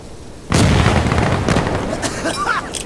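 An explosive breach charge going off in the shooter game Insurgency Sandstorm, a sudden loud boom that erupts after a quiet moment and rumbles on, with shouted voices and other game noise layered over the tail.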